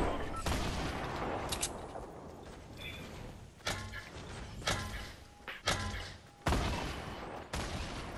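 Gunfire in Fortnite: sharp, separate shots and bursts crack out every second or so, some near and loud, others more distant, over a steady background of game noise.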